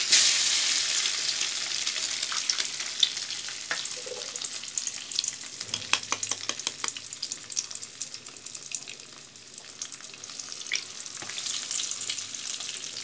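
Eggs frying and being stirred in a hot pan while making egg fried rice, a steady close sizzle with scattered spatula scrapes and clicks throughout, no talking.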